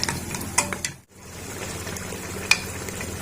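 Mutton pieces with spices and black pepper frying in a pot, a close steady sizzle with occasional sharp spoon clinks and stirring scrapes, briefly dropping out for a moment before resuming.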